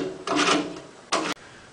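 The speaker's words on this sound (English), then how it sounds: "When removing wood from the stiff area, the best tool to use is a hand rasp or a draw knife." A hand rasp scrapes wood off a bow limb in two short, coarse strokes, the first longer than the second, close and clear against a quiet room.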